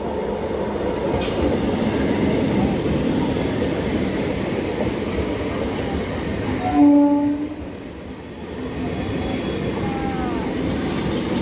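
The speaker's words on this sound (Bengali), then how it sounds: "আমাদের ট্রেন ঢুকে গেছে ক্যানিং।" A train pulls into Canning station, its steady rumble and rolling clatter filling the scene, with a brief horn sounding midway, loud and close.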